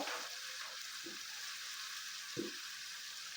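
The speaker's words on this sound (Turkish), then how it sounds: "soğanlarımız şöyle gördüğünüz gibi güzelce kavruluyor" Onions fry in a pan with a faint, steady sizzle, broken by a few soft stirring clunks, quiet and close, with no talking.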